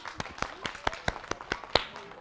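A few people clap steadily in a group, around ten distinct claps in a brisk, slightly uneven rhythm, close and moderately quiet.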